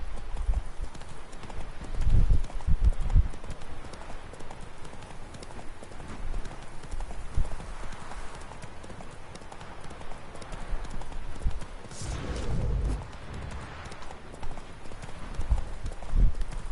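The horse Roach gallops in The Witcher 3, with steady, rhythmic hoofbeats pounding close and loud throughout and brief swells of surrounding game sound.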